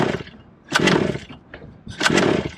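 The small gas engine of a 1/5 scale Redcat rally RC car idles low and unevenly, a raspy two-stroke buzz that surges in two bursts and sags between them, heard up close.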